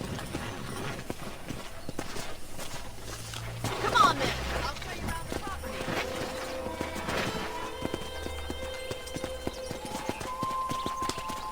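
Horse hooves clip-clop steadily on a ranch property in Red Dead Redemption, a mid-level rhythmic trot running under a man's conversational speech amid game ambience and music.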